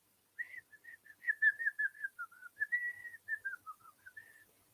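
A person whistles a lilting, wandering tune of quick connected notes during a read-aloud of a children's story, clear and close with no talking over it.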